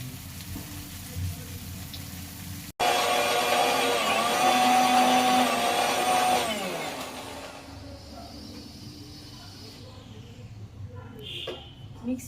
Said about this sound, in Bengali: মিক্সিতে আমি পালং শাক সেদ্ধটা একটুখানি পেস্ট করে নিলাম